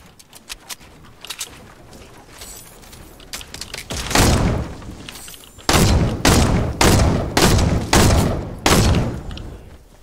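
Video game gunfire, with scattered quieter shots early on followed by a heavy run of loud, close blasts repeating roughly every half second to second, each decaying quickly, with no voices over it.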